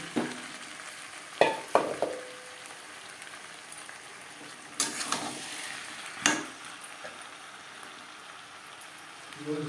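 Potatoes are stirred with onion, tomato and spices in a pan, giving soft frying sizzle under a few sharp scraping strokes of a spoon against the pan, with quiet gaps between them.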